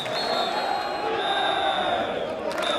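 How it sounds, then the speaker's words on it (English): A large stadium crowd at a South Melbourne v Melbourne Knights football cup match roars continuously after a goal, a sustained wash of cheering voices at steady volume throughout. "listen to the crowd"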